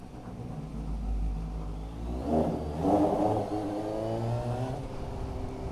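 A Suzuki GSX-S750 motorcycle in A2-restricted form revs and accelerates up through rising engine pitch, loud and close, with the rumble swelling midway and then holding steady.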